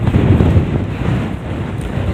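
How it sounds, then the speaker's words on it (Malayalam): Wind blowing steadily across an open hilltop in the Coorg hills, a continuous low rumbling roar buffeting the microphone close up, with no voices. "നല്ലൊരു കാറ്റുണ്ട് കണ്ടോ"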